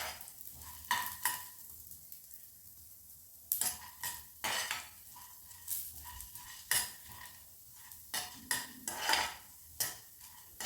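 Chana dal (split chickpeas) frying in a pan, with a soft sizzle under repeated irregular scrapes and clinks of a spoon stirring against the metal, close and fairly quiet.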